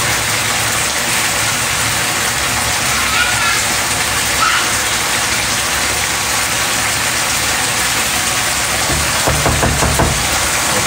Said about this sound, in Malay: Saya goreng dulu sardin ni. Ikan sardin tu digoreng dulu bagi garing.